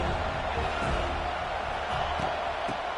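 Stadium crowd noise from the college football video game NCAA 26, in an Alabama versus Florida State matchup, forms a steady, dense roar that holds at a constant level throughout.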